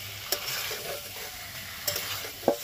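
Spices and katla fish with winter vegetables sizzle steadily in hot oil in a pan, with a few soft scrapes and knocks of a stirring spoon; close, fairly quiet and without talk.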